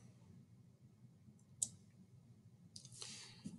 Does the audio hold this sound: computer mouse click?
yes